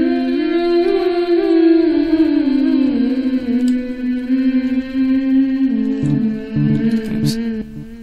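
Sustained vocal sample drenched in effects, with reverb and delay sends, loud and continuous, the pitch gliding slowly before choppy stuttered hits near the end.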